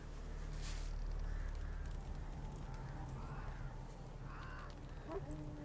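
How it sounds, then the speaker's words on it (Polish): Ravens caw a few times at middle distance in the Velen wilds of The Witcher 3: Wild Hunt, harsh calls spaced over a steady low ambient bed with faint footsteps. "Jakieś kruki."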